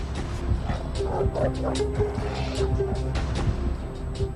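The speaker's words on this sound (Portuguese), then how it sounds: "Os cães." Several dogs bark and yip repeatedly in the distance, overlapping in an irregular, busy chorus.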